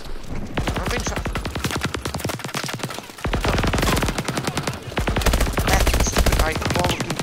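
Rapid automatic gunfire and launcher blasts from the combat video game Call of Duty: Advanced Warfare, loud and dense bursts of shots running almost continuously, growing heavier toward the end.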